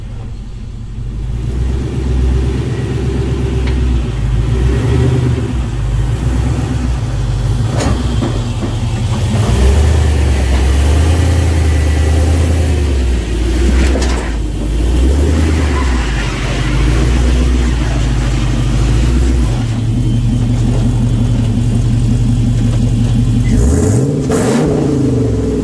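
A Jeep with a swapped-in LQ4 LS V8 engine rumbles and revs steadily, its deep engine note rising and falling as it drives, loud and close throughout with a sharp rev swell near the end.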